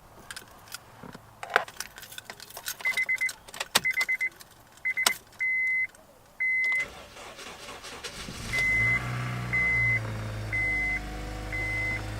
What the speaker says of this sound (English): so the car is up and running